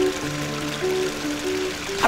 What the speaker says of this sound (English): A bridge over a babbling brook.